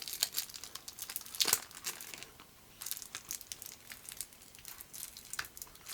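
Plastic packaging on an Isle of Cats board game box crinkles and tears in quick, close bursts, with a sharper rip near the middle and a brief lull before the crinkling resumes.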